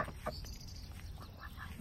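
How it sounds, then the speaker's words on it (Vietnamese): Ducks quack beside a small backyard pond on a home garden plot in the US, giving a few short, moderately distant calls over a low, steady outdoor background. "Đây là những chú vịt"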